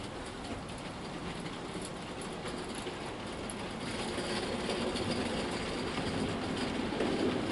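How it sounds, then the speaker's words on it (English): Heljan Class 14 model locomotive in NCB livery hauling a rake of 14 wagons loaded with real coal around a layout, a steady close rumble and rolling wheel noise that builds slightly louder over the run. "we have the NCB Livery Class 14 teddy bear all in the rake of coal wagons around the layout"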